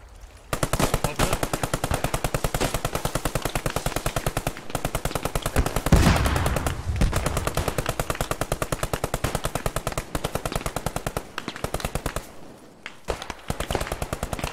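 Sustained bursts of rapid machine gun fire in a multiplayer war video game event, loud and close, rattling almost continuously with brief pauses between long strings of shots.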